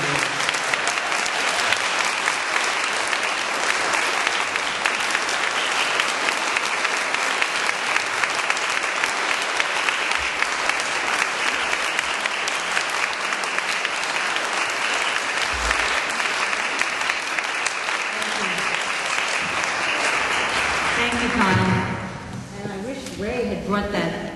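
Sustained audience applause at an indoor talk event, a dense, steady roar of clapping from many hands lasting over twenty seconds before thinning out at the end.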